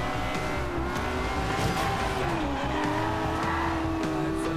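Lamborghini Aventador in Forza Horizon 2, its engine droning and revving steadily in Corsa mode with quick gear shifts, tires squealing on and off over the continuous racing roar.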